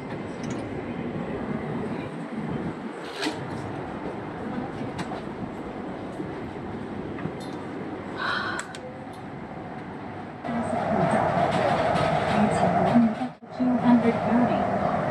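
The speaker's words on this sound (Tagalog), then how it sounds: "Train is approaching." A train pulls into a station in Hong Kong with a steady rumble and wheel noise that swell toward the end, under nearby voices and an announcement.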